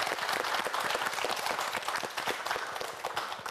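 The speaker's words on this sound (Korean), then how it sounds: "여러분 박수 한번 보내주세요." A studio audience at a Korean TV quiz show breaks into applause for a contestant, dense clapping that is fairly faint and tapers gradually over a few seconds.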